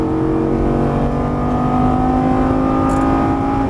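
A Lamborghini engine drones loud and close as the car accelerates on a race track, its steady high-revving tone sustained without a break.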